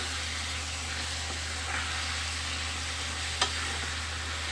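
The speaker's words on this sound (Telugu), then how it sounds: "ఇప్పుడు ఈ వంకాయ ఫ్రై అయ్యేలేపు ఈ పచ్చికారం కూడా మగ్గిపోతుందండి" Brinjal frying with green chili masala gives a steady, close sizzle with soft stirring scrapes and one brief clink partway through.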